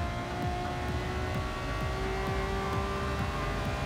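A race car on the back straight of Goodwood Circuit accelerates up through the gears, a loud, steady engine drone with repeated rising pitch sweeps as each gear winds up.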